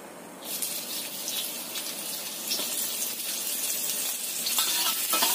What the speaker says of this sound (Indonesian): Kita tumis dulu tuh bawang merahnya